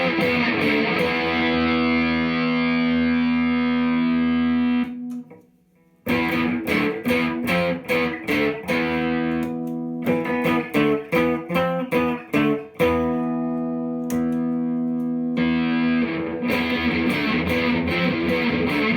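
Electric guitar through a distortion pedal playing loud, saturated chords and choppy rhythmic stabs, with a brief pause midway before the crunchy playing resumes.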